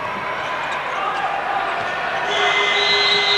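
A basketball is dribbled during a 2001 European Championship game between Estonia and Germany in Turkey, with bounces under a steady arena crowd hum and a commentator's voice.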